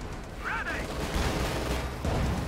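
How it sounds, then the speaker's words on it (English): A Kettenwerfer rocket launcher fires at a Sherman tank in a war video game, a muffled distant boom and rumble over continuous battle noise, with a whistling tone briefly rising early on. "Kettenwerfer takes a shot at that Sherman"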